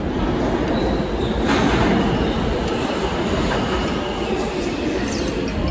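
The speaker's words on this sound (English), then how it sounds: "Now let's get the subway to the airport." A New York City subway train rumbles steadily along the tracks, a loud continuous roar with faint wheel squeals and clatter throughout.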